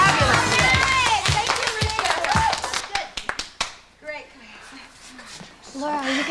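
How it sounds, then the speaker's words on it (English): A small group claps together after an exercise routine, a burst of quick hand claps under lively talk, thinning to a few scattered claps before speech resumes. "Give yourself a clap."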